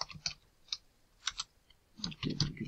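Keys on a computer keyboard are tapped in short irregular clusters while entering data into an Excel spreadsheet, close and quiet, with brief pauses between bursts and no talking.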